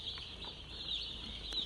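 Newly arrived day-old broiler chicks in a brooder give a steady, faint chorus of high-pitched cheeping, continuous and close, with no talking.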